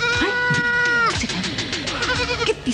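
Goat bleating nearby, repeated wavering cries with strong harmonics, loud and close, overlapping one another with some background noise.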